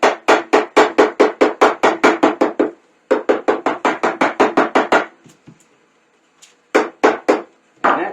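Mallet taps on a spreader auger motor case on a Salt Dogg SHPE 2000, closing the case down: loud, close, rapid strikes in two long runs, then a pause and a few more scattered blows.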